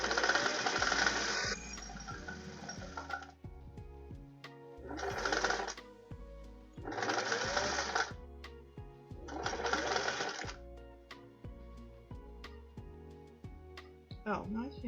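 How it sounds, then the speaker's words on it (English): Sewing machine stitching fabric for a stand mixer cover in several bursts of rapid mechanical chatter separated by pauses, with clicks and handling sounds and quiet talk in between. "I just need to sew it all the way around"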